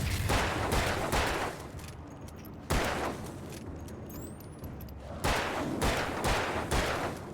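Heavy, continuous gunfire against a fast darkness zombie boss in a video game, long loud bursts of rapid shots separated by short pauses, close and dominant with almost no talk.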